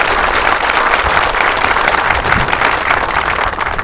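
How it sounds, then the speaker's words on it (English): Steady, dense applause from an audience welcoming a police chief at a donor event, loud and sustained throughout with no pauses. "give him a big round of applause"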